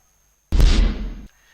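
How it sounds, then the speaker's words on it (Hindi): A single firework bursts at a student celebration on a campus near an arts college, a sharp loud blast that decays over less than a second, preceded and followed by near silence. "और आतिशबाजी की गई।"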